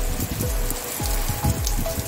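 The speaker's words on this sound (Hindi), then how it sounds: "बहुत तेजी के बारिश हो रही है" Heavy rain pours down steadily in a dense, close hiss, with scattered drops spattering loudly on a nearby surface.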